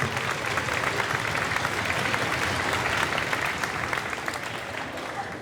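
Audience applause at a 2025 school band concert: a dense, steady wash of many hands clapping at once, sustained and loud throughout before easing off slightly toward the end.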